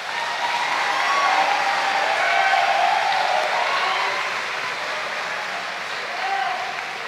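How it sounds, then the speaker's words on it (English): A large audience applauds graduates at a 2021 high school graduation ceremony, a steady, dense wash of clapping with faint cheers that holds for several seconds, building slightly and then easing. "Let's give them a round of applause."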